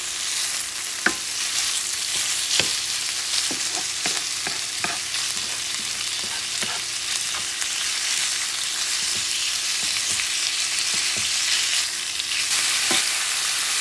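Chorizo sausage frying in a pan while being broken apart, a continuous close sizzle punctuated by sharp clicks and scrapes of a utensil against the pan, irregular taps throughout.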